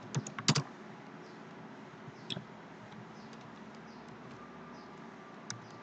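Typing code on a computer keyboard: a quick burst of close keystrokes at the start, then a few sparse taps over a steady background hiss, with no voice.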